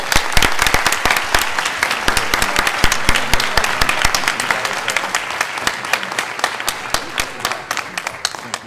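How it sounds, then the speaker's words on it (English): An audience gives the cast a round of applause, dense loud clapping close by that holds steady before thinning toward the end. "a round of applause for the cast"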